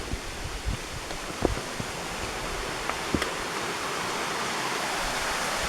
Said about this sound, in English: You hear the waterfall, but you can't see it.